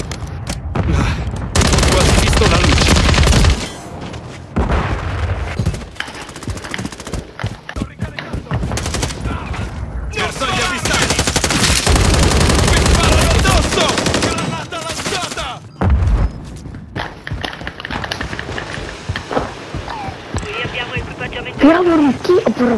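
Heavy machine-gun fire and rifle shots from Call of Duty: Modern Warfare III at an airport, loud sustained bursts broken by short gaps, with voices shouting over the shooting.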